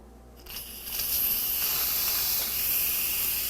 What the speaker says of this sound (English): I'm going to go ahead and let some of the steam out right now.